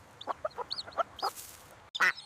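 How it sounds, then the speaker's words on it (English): Mother hen in a farm cartoon clucking in a quick series of short, separate clucks, fairly faint and with no talking over it. "Do you know where the mother hen is?"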